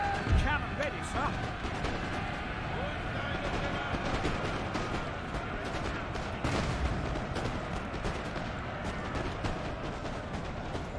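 Cannons fire canister shot in a Napoleon: Total War battle, with repeated booms and crackling volleys in a constant din of gunfire. Someone talks over the noise.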